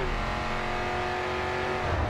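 Race car engine in GRID 2 holding a steady high-pitched drone, loud and close, with a slight rise toward the end and no voices.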